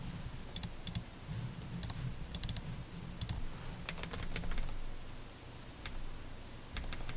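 Computer keyboard typing in quiet bursts of rapid clicking keystrokes with short pauses between them, close and soft against faint room noise.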